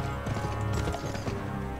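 Horse hoofbeats clip-clop steadily through a fast gallop in the Western action video game GUN, loud and close, layered with other game sounds and a faint whinny.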